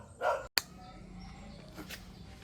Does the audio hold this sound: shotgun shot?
no